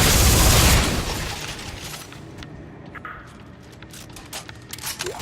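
Rockets explode in the sci-fi horror game Dead Space 3, a loud boom at the start that fades into debris rattles, small pops and scattered game effects.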